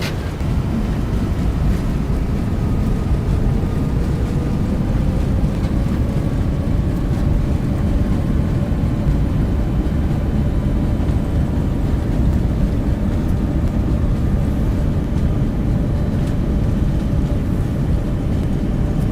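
A Boeing 747-8F landing and braking in X-Plane 12: a loud, steady roar of engines and rushing air over rumbling wheels, with a faint falling whine, continuous and unbroken throughout.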